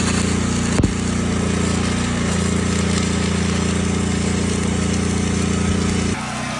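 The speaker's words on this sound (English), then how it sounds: "Alright, got this front crossbar all welded up." Stick welding with 6011 rod on the front crossbar of a rusty boat trailer, a steady loud crackling buzz that runs unbroken for about six seconds, then cuts off abruptly, leaving a quieter background hum.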